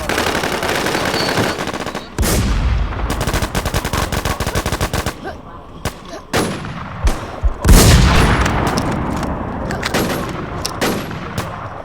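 Rapid bursts of gunfire crack close and loud, with rattling automatic volleys and scattered single shots filling the whole stretch, heard outdoors among trees.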